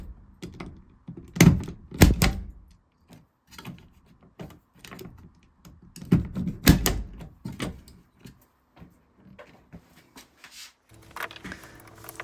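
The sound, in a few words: punch down tool terminating and cutting Cat5e/Cat6 wires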